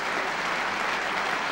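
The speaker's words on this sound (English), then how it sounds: "And a tremendous round of applause." Snooker crowd breaks into loud, dense applause after a shot at a championship match, a continuous, even roar of clapping heard up close with no pauses.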